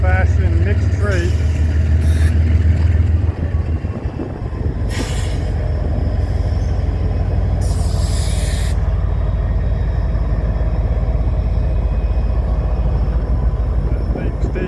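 Lake State Railway mixed freight train with a clean locomotive and a string of hoppers, creeping past close by with a loud low rumble, wheel squeal and hissing bursts, while a voice talks over it.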